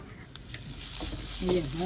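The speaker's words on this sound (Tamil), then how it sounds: "மிளகு சீரகம் நல்ல வடிவாக பச்சை மிளகு தாளிப்போம்" Pepper, cumin and green chili hit hot oil for tempering a spinach dhal, giving a steady close sizzle that swells louder toward the end with a few light stirring knocks.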